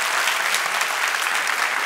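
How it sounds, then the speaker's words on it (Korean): A church congregation breaks into applause, a dense, steady wash of many hands clapping together at moderate volume, with no voices standing out. "그러면 박수 한번 주세요."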